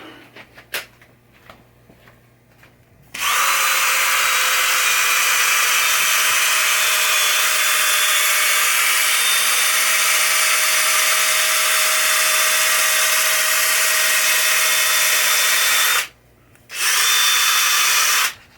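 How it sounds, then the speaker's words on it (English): Cordless drill with a polishing pad, used on a 1973 Williams Travel Time pinball machine, whirs loudly and steadily for a long stretch after a few soft knocks, then stops briefly and starts again near the end. "The drill actually worked better."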